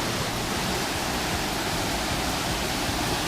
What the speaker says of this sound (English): Kind of hard to find this waterfall.